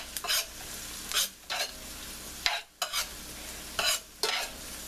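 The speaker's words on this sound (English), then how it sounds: "our onions are getting nice and golden" Onions frying in a pan while a vegetarian pumpkin pasta is cooked, heard as an intermittent sizzle with short bursts of stirring and scraping recurring every second or so, close and fairly quiet.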